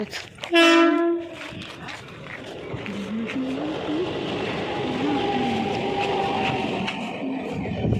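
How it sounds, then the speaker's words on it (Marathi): A loud train horn blasts once near the start, followed by the steady rumble of a train rolling in, continuing to the end. "आली ट्रेन आली आली ट्रेन आली"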